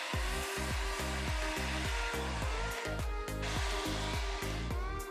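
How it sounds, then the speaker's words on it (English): Hair dryer blowing on warm, high speed while drying mousse-styled hair, a loud continuous whine with a rhythmic pulsing hum throughout, close up and alone. "Now I'm gonna blow dry my hair on warm and high speed."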